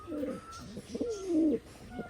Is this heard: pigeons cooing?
yes